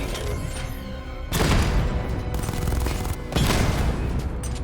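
Gunshots in Batman Arkham Knight, two loud sharp bursts of gunfire over a dense rumbling game background.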